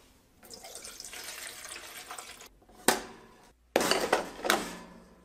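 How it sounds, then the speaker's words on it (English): Water runs into the pot of a Nostalgia 3-in-1 breakfast station's coffee maker, with splashing and clinking bursts interrupted by short pauses, loud and close. "With any new unit, I like to run water to clean the coffee maker."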